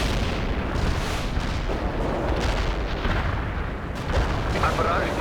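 Artillery barrage in the Cold War strategy game World in Conflict, a sustained dense rumble of heavy shelling and booming impacts filling the whole stretch, loud and continuous.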